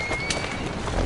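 Horses clip-clop while pulling a carriage through streets in Assassin's Creed Syndicate, a quick run of hoof strikes close by over a steady rolling din, with a brief thin tonal squeak.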